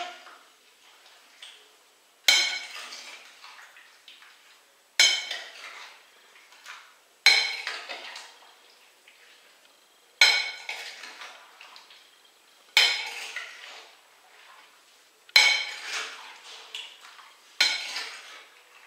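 Fruit salad with orange being mixed in a bowl, a series of about eight regular scraping, clinking stirs roughly every two and a half seconds, each fading quickly, close with no talk.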